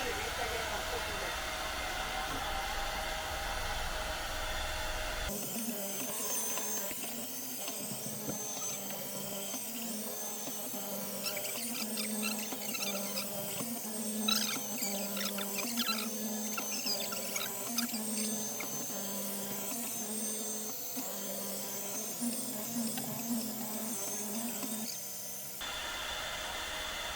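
A Mova N1 window-cleaning robot running a deep clean on glass, a steady low motor hum with soft rhythmic whirring and patter, fairly quiet and continuous, ending as it stops.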